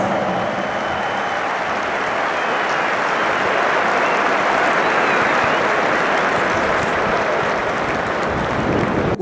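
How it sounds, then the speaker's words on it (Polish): A large crowd applauds loudly and continuously at the Lech Poznań football club centenary celebration, with dense steady clapping throughout. "Wielkie brawa, jeszcze raz ogromne brawa"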